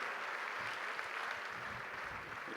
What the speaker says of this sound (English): you can tell from the applause that you are getting